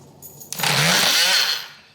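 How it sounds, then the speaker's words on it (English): A power saw cuts through quarter-inch flooring in one short burst: the motor spins up, bites in with a loud, rising whine for about a second, then winds down, close and alone. "So that's where I have to cut these floors."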